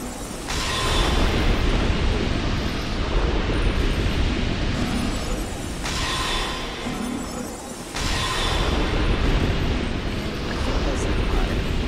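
Exploding enemies in Dark Souls 2 blow up one after another as a loud, sustained, roaring blast noise. It surges, dips briefly and then swells again, with a voice talking over it.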